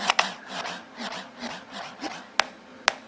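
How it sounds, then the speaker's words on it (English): Record scratching on a DJ app deck, rapid back-and-forth rubbing scratches in a steady rhythm with two sharp clicks near the end, close and without talk. "Now it tells me scratch by moving the deck back and forth."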